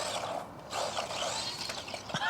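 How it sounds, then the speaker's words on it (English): A small brushless outrunner motor in a cheap RC car gives a fairly quiet, smooth whirring whine that rises and dips in pitch, broken by a few light mechanical clicks. "What you do notice is how smooth that brushless outrunner motor really is."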